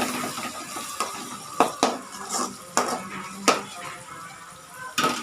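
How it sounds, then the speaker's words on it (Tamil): Tomatoes go into a pan of chicken gravy and get stirred in. A spoon scrapes and knocks against the metal pan in irregular, sharp clanks over a quiet background. "இந்த தக்காளி எடுத்து அதில் போட்டுடலாம். போட்டுட்டு தக்காளி நல்லா மசிஞ்சு வரணும்."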